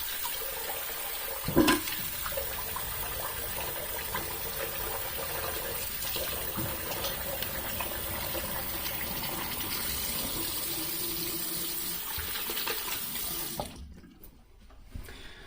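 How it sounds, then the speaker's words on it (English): Water runs steadily from a tap for rinsing after a shave, a continuous close splashing hiss with a brief louder splash early on, stopping abruptly near the end. "let's rinse off"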